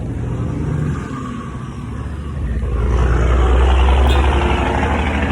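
Heavy truck engines rumble loudly nearby as traffic drives past outside, a dense low roar that swells and stays strong through the second half, with no voices over it.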